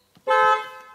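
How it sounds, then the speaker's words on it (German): Horn of a 2018 Mercedes-AMG GT R sounding a single short, loud toot of under a second, close up and alone with no talk. "So hört sich die Hupe an."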